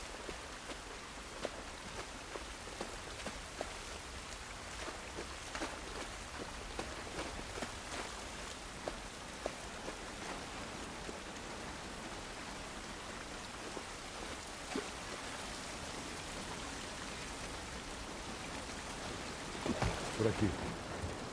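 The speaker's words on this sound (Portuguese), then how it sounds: "Essa chuva não vai nos ajudar." Faint, steady rain in the video game The Last of Us: a soft, continuous patter with scattered drips, quiet and unbroken throughout.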